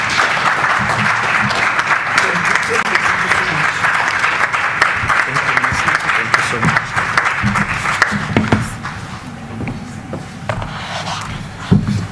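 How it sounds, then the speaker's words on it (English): Sustained audience applause welcoming Deputy President Paulus Mashatile at a NEDLAC annual meeting, a dense, steady wash of clapping filling the hall for about nine seconds before thinning out toward the end. "A round of applause"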